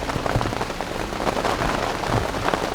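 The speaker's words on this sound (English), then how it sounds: "listening to the rain, watching the crickets scramble for some sort of cover" Steady rain patters on surfaces nearby, a dense continuous hiss with scattered heavier drops.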